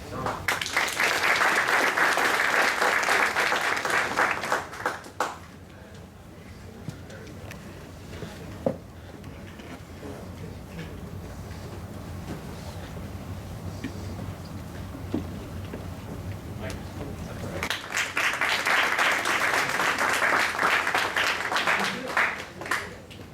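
Audience applause for award recipients at the MD-11 awards ceremony: a loud sustained burst of clapping fades into quieter room noise, then a second full round of applause swells near the end.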